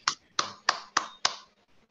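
Five crisp, evenly spaced handclaps ring out close and alone at a leadership institute completion ceremony, then fall silent.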